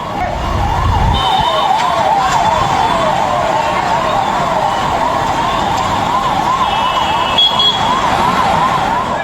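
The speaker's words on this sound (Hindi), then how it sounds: "एम्बुलेंस आप देख रहे हैं जो मेदांता के लिए निकली" An ambulance siren wails continuously in a repeating rising-and-falling pattern, loud and steady over street traffic noise, as the vehicle transports a patient to Medanta hospital.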